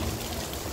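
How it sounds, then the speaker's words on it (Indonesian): Heavy rain pouring steadily, a dense, even wash of drops drumming close by with no pauses, filling the space with constant hiss and low rumble. "hujan"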